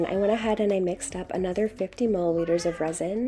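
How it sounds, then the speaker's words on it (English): A pet cat meows repeatedly in the background during resin mixing, its cries partly masked by a person talking steadily over them. "my kitty cat says hello"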